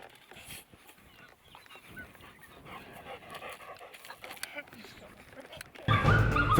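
Hunting dogs (curs) on a coyote hunt, with an antelope nearby, give scattered panting and yelps at a distance in open country, ending in a loud burst of noise at the close.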